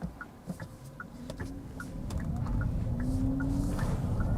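A Hyundai Ioniq 5 N electric car accelerates hard in normal mode, its rising whine and road noise building steadily from inside the cabin, with a few faint ticking sounds scattered over the first half.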